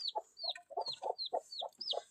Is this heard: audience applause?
no